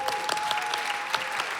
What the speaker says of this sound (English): That's an applause for Jagger Eaton.